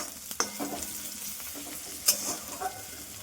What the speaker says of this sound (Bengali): আর এই যে পেঁয়াজ ভাজা হয়ে গেছে